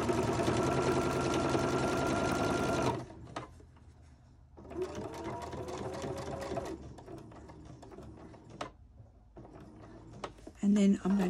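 Sewing machine stitching a quilt-as-you-go zippered pouch, with a few back stitches at the top of a pocket. A loud, steady mechanical run for about three seconds, then shorter bursts of stitching in which the motor speeds up and slows down.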